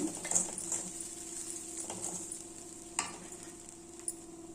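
Moong dal puttu with cardamom powder being stirred in a pan, giving soft scraping and light sizzling with a few sharper taps of the spoon against the pan, close and steady, with no talking.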